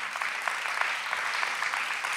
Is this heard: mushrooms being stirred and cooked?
no